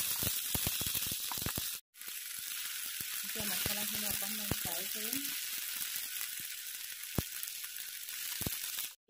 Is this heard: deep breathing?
no